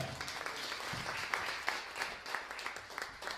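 A church congregation claps and applauds together, a sustained mass of hand claps with some rhythmic accents, fairly close and filling the room, with faint voices mixed in.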